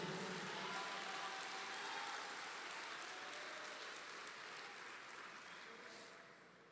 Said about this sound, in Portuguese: Aplauda então com alegria ao Senhor ainda mais.